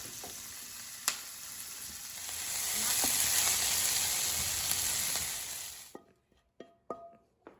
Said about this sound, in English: you don't want to get your oil too hot, so you want to cook this on like medium heat